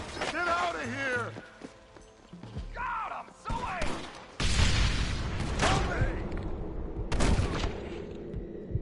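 In the video game Red Dead Redemption, dynamite explosions and gunfire go off in bursts: several sharp booms and shots across the middle and end, mixed with a shouting voice and other game sounds.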